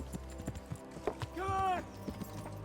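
Horse hooves clip-clop at a steady trot on a path in the medieval game Kingdom Come: Deliverance, close and moderately loud, with a brief whinny-like tonal sweep midway and someone talking over it.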